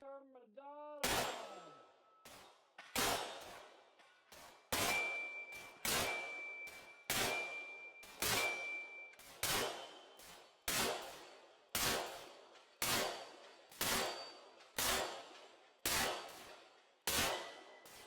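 Pistol shots from a compensated Phoenix Trinity LO PRO SSA ringing steel targets, a long run of sharp loud reports, each followed by a ringing metallic clang, fired in a quick, fairly even rhythm.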